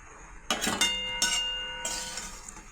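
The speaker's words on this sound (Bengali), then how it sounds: "মাছগুলো ভেজে তুলে নিচ্ছি" Fried rohu fish pieces are lifted out of a wok with a metal utensil, giving a few sharp clinks and scrapes against the pan, separated by short pauses and fairly close.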